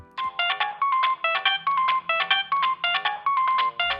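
A Nextel i730 phone plays its ringtone, a bright, loud electronic melody of repeating tonal bursts in a steady rhythm, close and with no voices.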